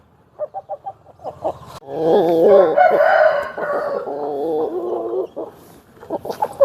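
A patta rooster offered for sale crows loudly and at length, with shorter clucks and calls before and after the crow, close by and heard alone.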